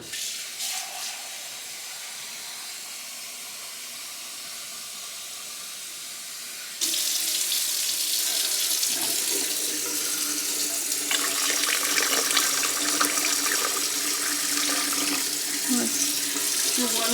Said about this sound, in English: I'll add more water.